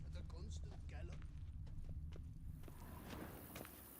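Horse hooves clop steadily at a gallop in a video game, quiet and steady beneath a voice talking over the top.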